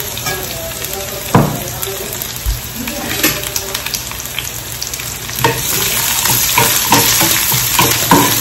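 Onion and garlic fry with chilli and turmeric in a pan, giving a bright, close sizzle broken by frequent scraping and clinking of a stirring spoon. The sizzle grows denser toward the end, and no one speaks.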